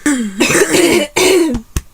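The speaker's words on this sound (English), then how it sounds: "those are the type of coughs that require phlegm to get out" A few harsh, wet coughs in quick succession from a congested person with ALS, close and loud, with a rattling, phlegmy quality and a short final hack.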